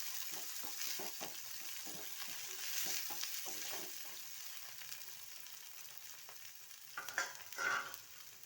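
Chopped onion and tomato fry in a pan for leftover-rice phodnicha bhaat, giving a continuous soft sizzle with light stirring scrapes and a brief louder spatter near the end.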